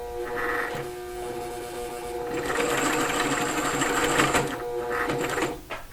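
A sewing machine stitches fabric pieces for a pillow, its needle running in a fast, rhythmic mechanical chatter with brief pauses and speed changes, close and clear.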